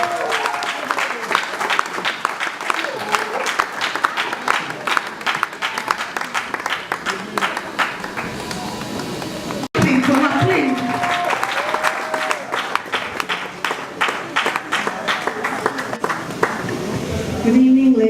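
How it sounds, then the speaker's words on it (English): An audience at a fashion show claps in sustained applause, dense and fairly close, with a brief break midway before the clapping resumes and voices mixed in. "May we please clap for her?"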